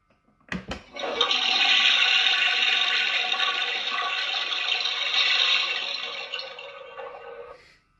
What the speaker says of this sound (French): Et le fin du fin, la chasse d'eau.